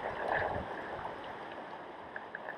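A small river in Yellowstone, fed by little waterfalls from a lake, flows with a continuous close-up gurgle and rush of water, steady and moderately loud with no voices.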